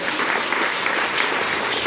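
A church congregation claps loudly and steadily, a dense, continuous wash of many hands close by with no pauses.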